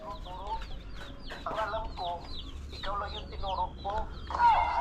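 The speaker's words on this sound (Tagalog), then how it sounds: "May 6 na rin na broiler dyan." Broiler chickens on a farm cluck and call repeatedly in short overlapping bursts, fairly close, with a low steady background hum throughout and a louder squawk near the end.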